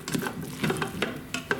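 Cooked meat and vegetables get stirred in a pressure cooker, giving a short run of scraping, clinking strokes in an irregular rhythm, close by and fairly quiet.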